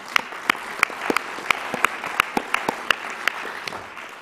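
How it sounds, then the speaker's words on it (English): Conference audience in a hall gives a steady round of applause, dense overlapping claps with a few sharper individual claps standing out, moderately loud and continuous throughout. "I think you all deserve a round of applause"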